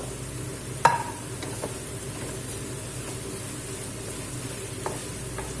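Holy basil leaves and snake beans being stir-fried in a pan, a steady low sizzle running throughout with a sharp clink of the utensil near the start and a few faint scrapes later, no talking.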